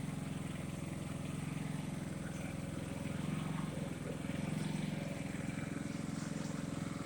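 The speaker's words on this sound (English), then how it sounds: "Fired right up and it was purring like a kitten." A Pulsar G450RN portable generator runs steadily nearby, a loud, constant low engine drone with a fast, even pulse that continues without pause.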